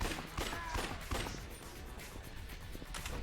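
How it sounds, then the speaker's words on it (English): Rapid firework shots fired as a weapon in the video game Yakuza Dead Souls, a dense crackling barrage of pops and bursts that runs steadily through the whole stretch, fairly faint in the mix. "or I use several firework shots"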